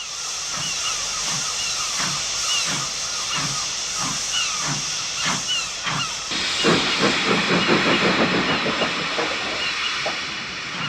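J36 steam locomotive 65345 shunts colliery sidings at Seafield Colliery near Kirkcaldy, giving rhythmic steam exhaust chuffs with a steady hiss that quicken and grow denser partway through, heard at moderate distance.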